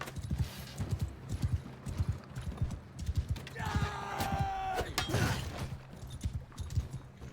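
Horse hooves gallop in a steady, rapid clip-clop during a cavalry charge in the video game Mount & Blade II: Bannerlord. A horse whinnies midway, and battle noise sits underneath.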